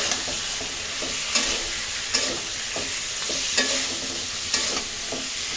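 Tomato and eggplant frying and being stirred in a pan, a steady hiss with a few sharp scraping strokes of the spoon at regular intervals, close up and with no talking.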